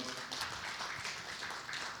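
A church congregation applauds in a steady, dense wash of many clapping hands, moderately loud and continuous for the whole stretch, with no talk over it.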